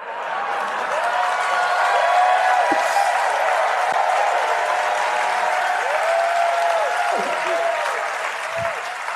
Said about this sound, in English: we usually don't get that kind of applause when we actually do the podcast